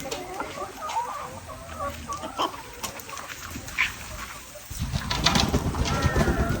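Chickens, one of them sick, cluck and squawk close by, with birdsong and outdoor ambience around them, on Tioman Island.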